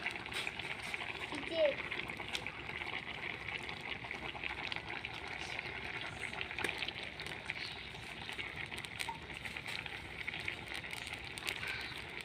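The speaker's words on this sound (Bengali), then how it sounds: "এখন দেখবো বলক উঠে গেছে" A pot of curry boils steadily, giving off a dense, even bubbling hiss that continues unbroken at a moderate, fairly quiet level.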